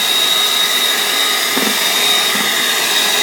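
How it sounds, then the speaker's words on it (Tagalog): Electric fan running in a home kitchen, a steady close-up whirring hum with a constant tone, with a couple of faint soft knocks partway through. "Electric fan."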